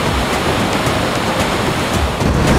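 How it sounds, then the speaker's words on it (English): Waterfalls cascade on all sides near the Angolan border in Namibia, producing a loud, dense, continuous rush of falling water with no break. "There's just waterfalls cascading from everywhere."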